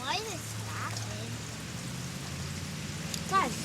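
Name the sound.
rain falling during a thunderstorm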